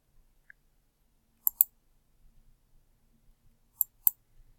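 Computer mouse clicks while measuring a line in AutoCAD: two pairs of sharp, close clicks, each pair a quick double tap, in an otherwise quiet room.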